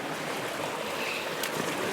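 Waves wash onto a rocky shoreline on Great Mercury Island in a continuous, close, broadband rush with gentle swells in intensity and no voices.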